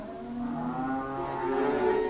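Butcher cattle in livestock pens moo in long, overlapping, low calls, loud and continuous, with several animals sounding at once.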